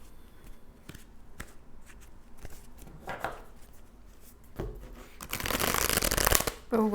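A tarot card deck being shuffled by hand: soft riffles and taps at first, building to a loud, dense, continuous flutter of cards near the end, close by with no talking.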